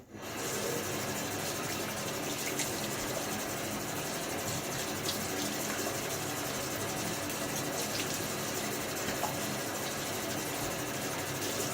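A steady, loud rush of running tap water pours continuously for several seconds as a safety razor is rinsed, with no clear breaks or other sounds.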